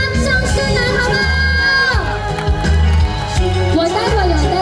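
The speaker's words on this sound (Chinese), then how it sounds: "掌声来好吗？" An evening concert crowd in Chiayi cheers and whoops, with children shouting, over loud music that keeps playing with a pulsing bass line and a sustained melody, close and continuous.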